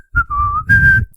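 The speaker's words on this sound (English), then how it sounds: "just whistling all awkward." A brief, clear whistled tune of a few sustained notes, close and loud, with a slight wobble in pitch.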